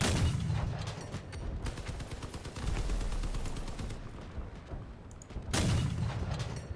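Tank cannon and weapon fire in the Crossout vehicle combat game, a Tiger H1 tank build: dense rumbling bursts of shots and booms, loudest at the start and again near the end, with continuous battle noise in between.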